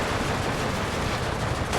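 Tank gunfire in the Steel Division 2 wartime strategy game, a dense continuous rumble of shots and blasts filling the whole moment, loud and close with no clear gaps between rounds.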